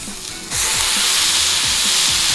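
Burger patties hit a smoking-hot grill with a sudden loud, broad sizzle that swells at once and holds steady, close and continuous with no voices.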